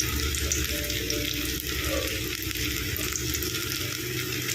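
Fish coated in a gram-flour masala fries in medium-hot oil in a kadai, giving a steady, dense sizzle that runs unbroken from start to finish with no voices.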